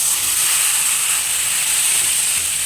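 Pasta tipped into a hot pan of spices gives a steady, loud sizzling hiss that holds evenly throughout with no break, and no voice is heard.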